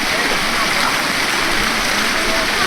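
Water rushes steadily down a hill road in the Matheran area, a continuous broadband roar with no breaks, close and fairly loud throughout.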